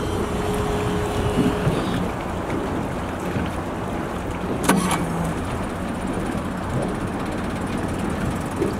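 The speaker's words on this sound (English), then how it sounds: "Trolling motor." Trolling motor running on a KingFisher 2325 Coastal Express boat, a steady low drone mixed with water and wind noise, with a short whine partway through.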